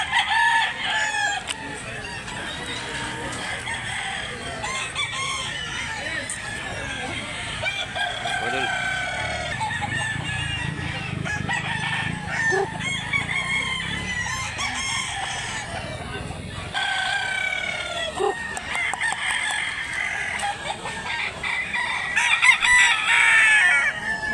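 Gamefowl roosters on a chicken farm in Mantalungon, Cebu crow repeatedly, several birds overlapping near and far with occasional clucks, while someone talks faintly now and then.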